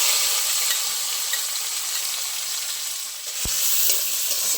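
Chopped onions frying in oil after mustard seeds are tempered, giving a dense, even sizzle close by with a single low thump near the end and no speech.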